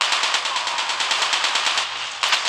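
Rapid automatic weapon fire from the Call of Duty video game rattles in a fast, loud, continuous burst, briefly pausing before resuming, with no talk.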